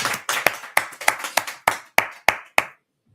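A church congregation claps in acclamation, about ten sharp, roughly evenly spaced claps ringing in a reverberant room before stopping abruptly into silence.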